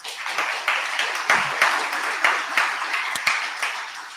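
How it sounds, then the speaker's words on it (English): Crowd applause and clapping at an outdoor community celebration honoring Marsha P. Johnson in Hoboken, steady dense clapping with a few sharper accents, moderately loud and sustained throughout. "Can we give them a round of applause?"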